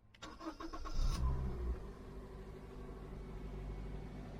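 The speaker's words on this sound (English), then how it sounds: "Engine starts on the button." A UK hot hatch engine cranks briefly, catches and fires up from cold, then settles into a steady low idle, heard close by with no voices.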